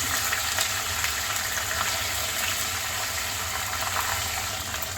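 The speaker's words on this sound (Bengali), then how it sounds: "এবার দিয়ে দিচ্ছি 1 টেবিল চামচ আদা বাটা, 1 টেবিল চামচ রসুন বাটা। এবার আগে কষিয়ে নেব।" Ginger and garlic paste sautéing in a pan for beef korma gives off a steady, even hiss of frying that carries on unbroken, close and moderately loud, with nobody talking.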